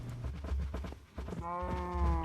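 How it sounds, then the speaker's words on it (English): A sheep in the Minecraft modpack Agrarian Skies 2 bleats near the end, a wavering nasal cry following soft footstep-like thumps, fairly close and distinct. "now we have a sheep that want to murder me"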